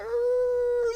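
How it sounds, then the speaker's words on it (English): A werewolf in the video game The Sims 3 howls at the moon, one short, steady, clear howl held for about a second. "So let's go ahead and howl at the moon."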